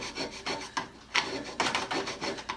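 A copper piece scraped along a metal file, a series of rhythmic rasping strokes close by, about a dozen passes at an even pace with no talk.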